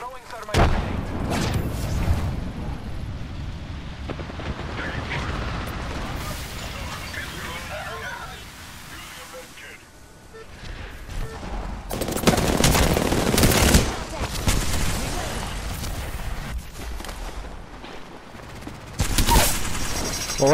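Gunfire and booming blasts from an Apex Legends match, with bursts of automatic fire and a burning thermite grenade, loud and close, coming in clusters and swells over about twenty seconds, with players talking over parts of it.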